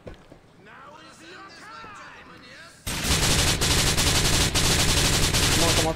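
Machine gun fire from Grand Theft Auto 4 opens up abruptly partway through, a loud, sustained rattling burst that follows a quieter stretch of game sound and talk.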